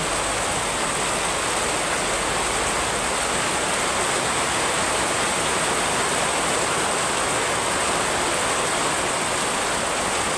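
Heavy rain falling in Bicol, a dense, steady hiss of downpour that stays loud and unbroken throughout, with no voices.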